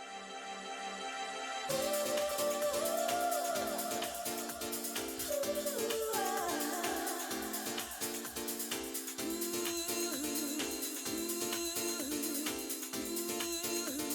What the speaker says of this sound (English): And the title theme sounds like this.